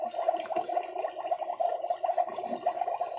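A Magic Mixies toy cauldron bubbles continuously, a close, steady gurgling churn of liquid with rapid fluttering pops, heard alone without talk.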